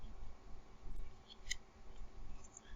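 Scissors trim excess hot melt glue from a slot car chassis, giving a couple of small crisp snips over a low hum, close and quiet.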